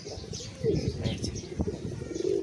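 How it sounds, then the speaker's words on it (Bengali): A pigeon coos close by in low, throaty, repeated calls, with faint chirps and a brief wing flutter. "এই যে এখনও কবুতরটা ডাকাডাকি করতেছে"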